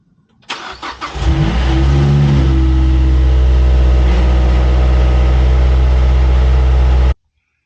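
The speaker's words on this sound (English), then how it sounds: "We're gonna start it up and see what she does." A Mazdaspeed 3 engine with its EGR deleted cranks briefly, then catches and settles into a loud, steady idle that runs close and unbroken for several seconds before cutting off abruptly.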